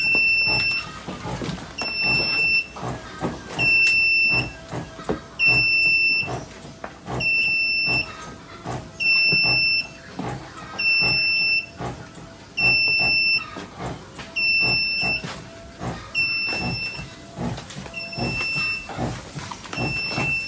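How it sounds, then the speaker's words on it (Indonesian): A COVID-19 hand sanitizer dispenser's alarm beeps loudly after its button is pressed, sounding about a dozen evenly spaced high-pitched tones over steady background noise. "Tombol ini akan kita tekan, alarm akan berbunyi."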